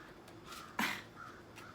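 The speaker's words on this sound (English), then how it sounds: "there's this crow that comes around every time I shuffle cards" A crow gives one short, sharp caw at mid distance indoors, with a few fainter calls around it against a quiet background.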